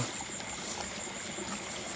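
A small stream of water trickles steadily and fairly close at night in the rain, a continuous low babbling flow with no voices over it.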